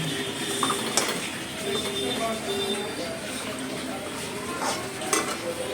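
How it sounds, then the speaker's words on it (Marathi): Jaggery for tilgul is stirred and cooked in a pan as it melts, with continuous scraping and clinking of a spoon against metal and a faint sizzle, close and busy throughout. "तीन चार मिनटं गूळ आपण थोडासा मेल्ट होईपर्यंत शिजून घेणार आहोत।"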